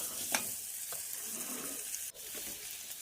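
Green chilies, onion, peanuts and dal frying in hot oil in a home kitchen pan, a steady close sizzle with light stirring scrapes and a brief clatter partway through.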